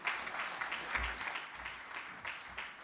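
An audience at a travel trade event claps after a speech, a moderate burst of applause from a hall crowd, steady and slightly distant, no voices over it.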